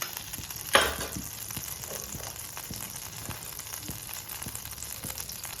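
Marinated chicken for Afghani chicken fries in a pan of melted butter and ghee on a gas stove, a steady close sizzle with a sharp burst of spitting near the start and occasional pops and stirring taps.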